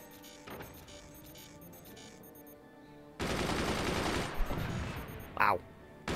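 Massed gunners fire in the Forts strategy game, a dense, loud rattling burst of machine-gun fire that sets in abruptly after a quieter stretch, with a voice commenting at times.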